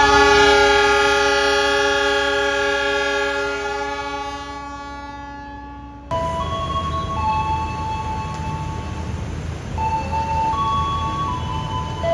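Taksaka passenger train departing Yogyakarta station blasts a long, loud horn chord that fades out, then after a sharp break station ambience follows with brief tones and announcement-like chimes.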